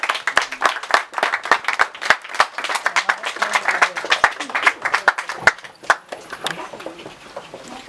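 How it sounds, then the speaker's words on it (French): Guests at a civil wedding ceremony in Saint-Quentin clap in brisk, lively applause close by, mixed with voices, then the clapping thins out and fades toward the end. "Je vous invite à les applaudir bien fort"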